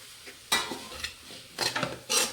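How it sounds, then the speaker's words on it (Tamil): Capsicum sautéing with ginger and garlic in a pan for a capsicum broth, heard as loud bursts of scraping and sizzling stirs over a quieter frying hiss. "இப்போ இந்த குடமிளகாயும் போட்டுடலாம்."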